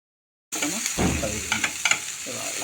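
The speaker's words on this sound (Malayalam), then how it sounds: "ഇതൊന്നിങ്ങനെ നന്നായി എണ്ണ ഒഴിച്ച് വഴക്കിക്കൊണ്ടിരിക്കുകയാണ്" Capsicum and brinjal pieces sautéing in oil in a pan, sizzle hissing up abruptly and staying steady and close, with a few soft stirring clinks.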